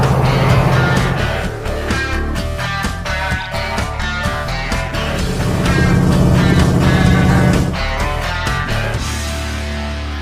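A dragster-built truck's engine drones steadily while driving along, loud and close with a shifting, uneven tone as the motor stumbles.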